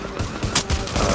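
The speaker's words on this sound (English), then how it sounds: "Oh, somebody's shooting." Rapid gunfire in the video game The Division, a quick burst of several shots in close succession, loud and dense over a brief moment.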